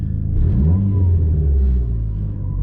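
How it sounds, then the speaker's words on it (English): Engine vibration felt inside a Dodge SRT-4 fitted with aftermarket engine mounts, a low droning hum that rises and falls with the revs, close and fairly loud, without talk. "you can hear a little bit of vibration"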